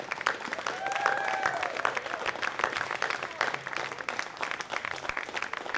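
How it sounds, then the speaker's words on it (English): An audience applauds board members at a theatre show, a dense steady patter of clapping throughout, with a couple of brief whistles or cheers near the start. "why don't you stand on up and get a good applause"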